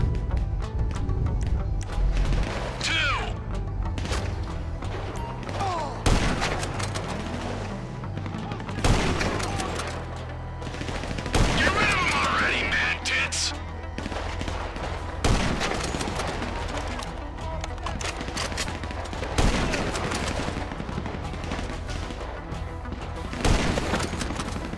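Heavy gunfire in GTA V during the Lamar Down mission, with repeated bursts of automatic fire and single shots going off throughout amid explosions, while a player shouts now and then.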